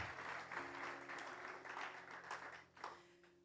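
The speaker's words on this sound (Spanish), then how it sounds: "denle un aplauso al Señor" A church congregation applauds at a service, a sustained wash of clapping that swells and fades over a few seconds, fairly faint overall.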